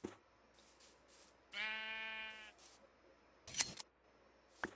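Sheep bleating in the Minecraft video game while being sheared, one clear tonal bleat amid soft clicks and short snipping shear sounds, quiet and without talk.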